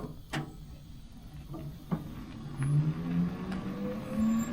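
Brake pads dragging on a Taylor Dunn electric utility vehicle give off a thin, rising squeal that comes and goes over a low drone. It is fairly close and moderately loud, with a few clicks mixed in.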